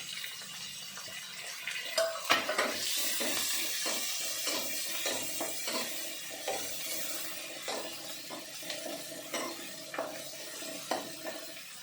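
Onion and garlic paste fries in a pan of oil with a soft, steady sizzle, broken by repeated light scrapes and clicks of stirring. It is fairly quiet, with no talking.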